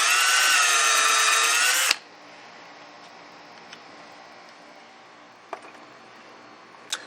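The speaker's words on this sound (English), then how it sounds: "I'm going to drill just an 1/8 inch hole" A power drill bores an eighth-inch hole into the end of a wooden cigar pen blank, whining loudly and steadily for about two seconds before stopping abruptly, leaving only faint clicks and handling noises.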